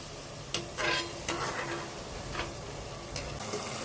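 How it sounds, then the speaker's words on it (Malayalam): Onions sizzle steadily in hot oil, with a few sharp clinks and scrapes of a utensil against the pan breaking through at intervals. "സവോളയും ഞാൻ വറുത്ത് കോരി വെക്കുകയാണേ."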